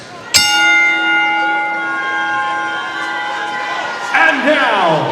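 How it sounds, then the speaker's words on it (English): A boxing ring bell is struck once at a women's pro fight in Flint, Michigan, its bright metallic clang ringing out and slowly decaying over an arena crowd murmur, with a burst of crowd noise near the end. "When the bell rings"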